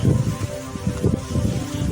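Gusty wind buffets the microphone with low rumbling bursts, a steady close roar rising and falling throughout.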